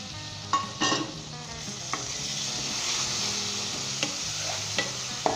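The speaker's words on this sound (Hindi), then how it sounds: "तो दोस्तों 5 मिनट तक हमने इसे फ्राई करना है इसी के अंदर अच्छे तरीके के साथ।" Mutton pieces frying with browned onions in a pan for Rajasthani laal maas curry, a steady dense sizzle close by with occasional clinks and scrapes of a stirring spoon, no voices.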